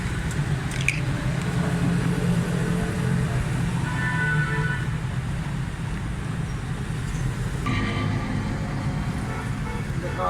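A Suzuki Cultus three-cylinder engine with a faulty tappet guide runs steadily up close, with a rough mechanical clatter of tappet noise from the top of the engine.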